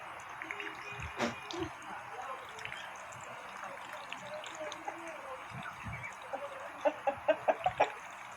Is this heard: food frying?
no